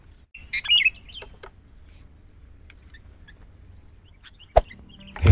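Sooty-headed bulbul (kutilang) giving a few short bright chirps near the start, then sparse faint calls over a quiet background, closing with a sharp knock and a rustle.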